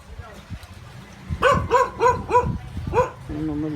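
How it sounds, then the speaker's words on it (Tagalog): A small dog barks in a quick run of about five sharp, high yips close by, then lets out a whining whimper, with low background sound. "Ano, malit na aso lang yan."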